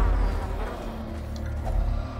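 Insects buzz steadily through a dungeon scene in the video game Darkest Dungeon, a close, continuous droning hum with no talking.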